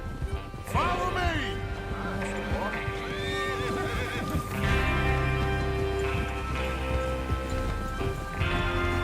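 Horses from the video game Red Dead Redemption 2 whinny and snort repeatedly while hooves clip-clop beneath, with the galloping sounds nearby and steady, partly overlapped by game dialogue and background music.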